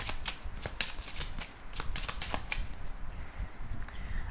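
A 32-card deck is shuffled steadily at close range for a card reading, giving a continuous riffling, flicking patter with quick snaps and no talking.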